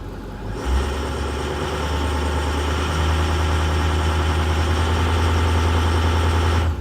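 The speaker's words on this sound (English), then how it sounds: "ensuring that it does hold by revving the engine to approximately 1200 RPMs" An IC CE school bus engine revs up to about 1200 RPM while held against the spring brake, a steady loud low-pitched drone that rises and then holds level.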